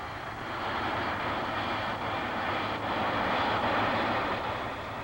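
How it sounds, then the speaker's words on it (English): Hawker Siddeley Harrier strike jet at the 1967 Paris Air Show, a steady, loud, broadband engine roar that holds nearly constant throughout without any speech. "Now it appears in military dress for the first time as the Hawker Siddeley Harrier, a strike aircraft on order by the RAF."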